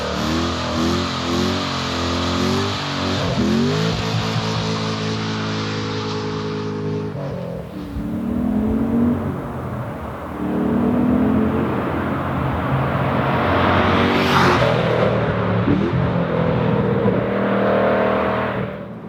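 A deep small-block Chevy V8 in a Flying Miata MX-5 ND rumbles and revs repeatedly, pitch climbing and dropping through gear changes, loud and close with a brief whoosh midway.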